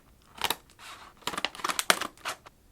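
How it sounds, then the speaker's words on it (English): Scissors snip into plastic packaging of new pens, giving a few quiet, close crisp cuts and crinkles in short bursts with brief pauses between them. "I may well need my scissors to actually bust into these"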